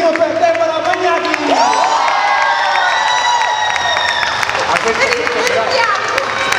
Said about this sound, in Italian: un urlo di casino per Deborah Magnani!